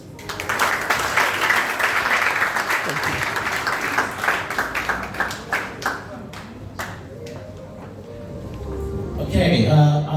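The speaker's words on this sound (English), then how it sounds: "Okay, another round of applause for IC." Audience applause at a Longrich business event, dense clapping that thins into scattered claps toward the end before a louder burst of noise and voices closes it.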